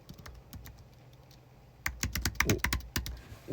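Someone types on a computer keyboard during a livestream, with sparse soft keystrokes at first and then a quick, louder burst of clustered clicks up close.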